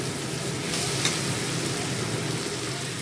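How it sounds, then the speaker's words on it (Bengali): Onions fry in a pan until reddened, a constant soft sizzle with light stirring scrapes running evenly and close throughout. "ভালো করে পেঁয়াজটা লাল করে আমি ভেজে নেব"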